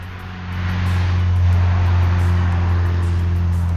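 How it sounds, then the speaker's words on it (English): A motor car passes along a street in the Welsh town of Denbigh, a steady low engine hum that swells slightly and holds close and loud throughout, with no voices. "And motor cars."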